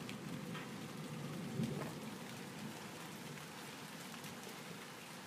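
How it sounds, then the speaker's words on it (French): Steady heavy rain mixed with hail patters and hisses on surfaces during a strong thunderstorm in Amboise, France, with scattered sharper hits from the hailstones. "Regardez les gens, il y a de la grêle."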